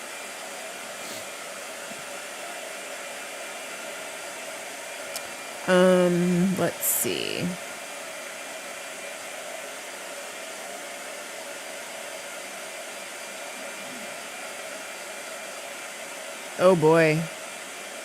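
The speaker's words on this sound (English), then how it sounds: "Blow dryer." A hair blow dryer runs as a steady, loud broadband whoosh through most of the clip, with a person briefly speaking over it a couple of times.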